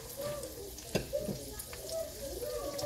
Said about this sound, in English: let that sausage just brown